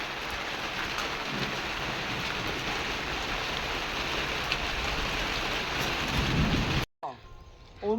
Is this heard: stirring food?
no